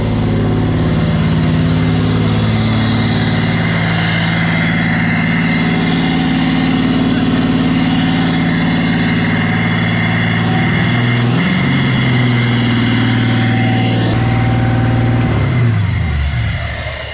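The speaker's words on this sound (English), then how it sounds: "sounds like a V8" An LS V8 engine swapped into an Audi A6 idles steadily with a low, even rumble, loud and close, then dips slightly near the end.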